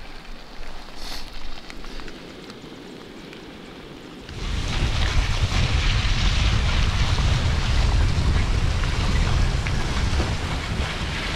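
Rain falls on a morning bikepacking ride on the Great Divide Mountain Bike Route, starting as a light patter and then jumping to a loud, steady hiss that continues to the end.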